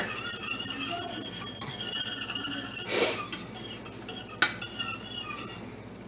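A metal whisk scrapes and clinks against a metal pot while stirring toffee, close and continuous with sharp metallic scrapes and taps and no talking.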